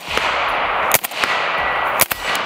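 Suppressed 5.56 rifle shots fired outdoors, several sharp close cracks spaced about a second apart over a loud steady background rush.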